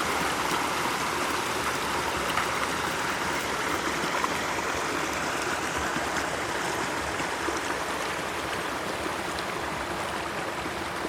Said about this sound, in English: here we are at the stream crossing.